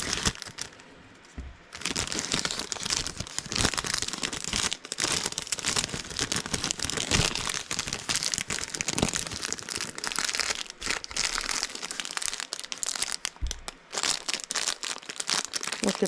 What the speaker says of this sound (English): And just now peel off the sticker.